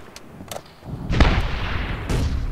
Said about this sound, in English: He just threw a grenade.